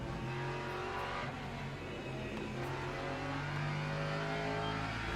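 Hypercars race in Le Mans Ultimate, a racing video game, their engines making a loud, continuous whine and roar as several cars rev and pass together, with no one talking.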